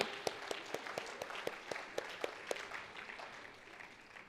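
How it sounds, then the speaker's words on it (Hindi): Faint applause at the Grand Sujok Fest for the Gujarat team: a handful of sharp, distinct hand claps in an uneven rhythm, quiet and thinning out over the last second. "तो जोरदार तालियां हो जाए जीसा टीम के लिए।"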